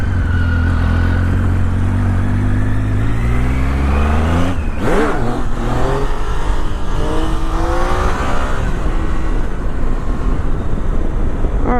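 A dirt bike engine working hard during low-speed off-road maneuvering, loud and close, its note dropping then rising and falling through repeated revs and gear changes with no talk.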